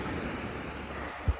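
Sea waves wash softly onto a Sochi beach in mild autumn weather, a faint continuous surf hiss mixed with wind noise, with one brief low thump near the end.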